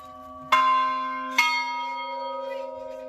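Church bells in Bulgaria strike twice, loud and close, each stroke ringing out with a long decaying hum beneath.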